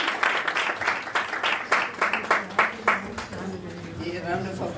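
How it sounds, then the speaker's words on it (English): Audience at a university faculty research day clapping after a presentation, a run of loud, fairly rhythmic claps that taper off while a voice speaks over the end. "A round of applause."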